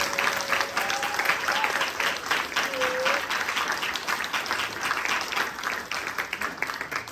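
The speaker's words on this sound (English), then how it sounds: "Please give him another round of applause" Applause from an audience at a yagna gathering, a dense, continuous wash of clapping that holds steady and loud throughout.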